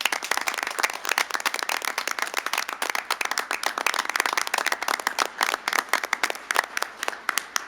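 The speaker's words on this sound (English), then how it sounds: "I'm going to ask for one more big round of applause and congratulations to these new 8 firefighters and our new Fire Chief," A city council meeting audience gives a round of applause for eight new firefighters and the new fire chief, dense steady clapping from a moderate-sized room lasting several seconds without speech.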